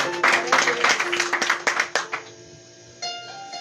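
A congregation at a church sermon claps in a burst of quick, uneven hand claps that fades after about two seconds, leaving a held tone and a faint voice.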